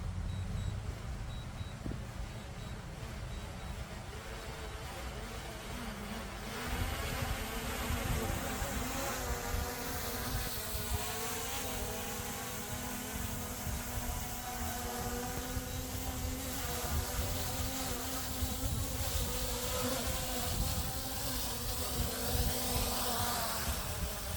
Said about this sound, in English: Here we are overhead. And it is landing right now.